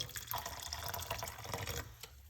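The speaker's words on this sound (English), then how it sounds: "we are going to pour some hot water" Hot water poured over fresh rosemary, ginger, turmeric and cloves for an herbal tea, a steady close splashing trickle running about two seconds.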